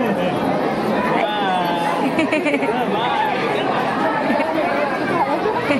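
Dense crowd of pilgrims at the Ekvira Devi hilltop temple, a steady babble of many overlapping voices close around, with a dog barking briefly somewhere in the throng.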